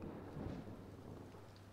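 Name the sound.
rain and thunder in the video game Impostor Factory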